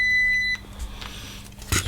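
Multimeter on continuity range giving a single steady beep about half a second long during a short-to-ground check on a Sony SA-CT290 sound bar board, followed by quiet clicks and a brief clatter.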